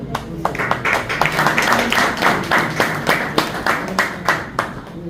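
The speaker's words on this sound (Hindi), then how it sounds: "तालियां बजा दो।" An audience at an award ceremony claps along, a steady run of close, fairly loud hand claps at a brisk rhythm, with a faint murmur of voices beneath.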